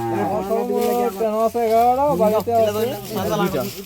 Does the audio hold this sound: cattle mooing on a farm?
yes